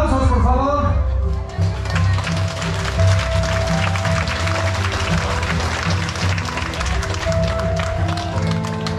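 Applause welcoming the quinceañera at her fifteenth birthday celebration, with steady clapping from a standing crowd over music and speech.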